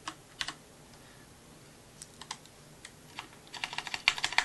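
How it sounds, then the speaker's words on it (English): Clicky typing on a CM Storm QuickFire Pro mechanical keyboard in irregular bursts, sparse at first then a faster flurry of keystrokes near the end, close and fairly quiet. "Sometimes I'm not bottoming out on the keys, so you don't hear it as loud."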